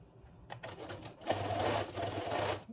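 A sewing machine runs a small zigzag top stitch along the bottom edge of a fabric face mask over the elastic. It starts with a few short stuttering bursts, then settles into a steady, close mechanical whir.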